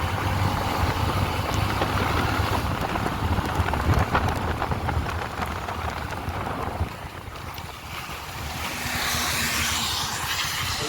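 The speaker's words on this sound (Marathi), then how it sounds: "पाऊस आलाच भाई, जोरात आला." Heavy rain pours steadily on a rural roadside in Konkan, a dense, constant wash of drops close by that stays loud throughout, easing slightly near the end with no talk over it.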